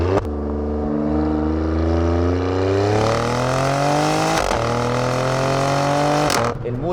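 An Alfa Romeo Stelvio Quadrifoglio accelerates hard in race mode, its engine note climbing steadily through a long pull with a brief dip at a gear shift before rising again, loud and close, then cutting off abruptly.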